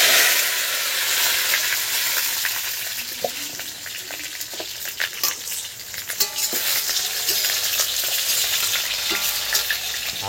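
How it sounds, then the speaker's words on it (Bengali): Fried potatoes and green chillies being stir-fried in an oil-filled pan for aloo kosha, with a steady bright sizzle and repeated scrapes of a spatula stirring close by. "শুরু হয়ে গেল বন্ধুরা আলু কষা এবারে।"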